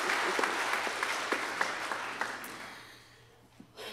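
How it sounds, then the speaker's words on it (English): Applause from the audience at a 45th anniversary celebration, dense clapping that holds steady and then fades out toward the end. "Let's give her a round of applause."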